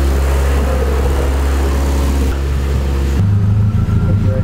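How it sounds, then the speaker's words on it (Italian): A car engine idles close by during a hydrogen decarbonisation treatment test, a loud, steady low hum with strong harmonic tones that shifts pitch midway, while a person speaks over it. "Motore acceso, ti dà il minimo"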